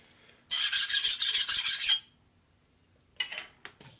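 A file rasps across a Harley Shovelhead big-bore stroker engine part in a workshop, with a rapid run of about a dozen loud, even strokes, a pause, then a few shorter, quieter scrapes near the end.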